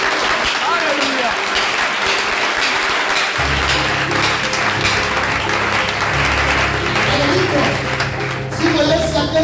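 A church congregation breaks into sustained applause in response to a call to acclaim the Lord, with dense clapping throughout and voices rising beneath it partway through.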